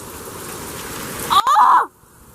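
Heavy rain falls in sheets during a storm with constant lightning and gusty winds, a steady close hiss that swells with a brief louder burst before dropping off abruptly.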